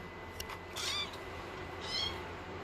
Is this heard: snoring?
no